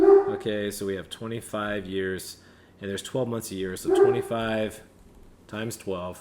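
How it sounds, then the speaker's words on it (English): A Great Dane barks and whimpers in a home while a person explains mortgage loan math, with short yelps and barks scattered between and under the talking. "Sorry about my dog, guys."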